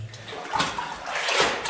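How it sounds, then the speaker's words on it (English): Water splashing as a foot steps into a water-filled hole outdoors, a brief wet slosh and spray lasting under two seconds. "Did you just splash?"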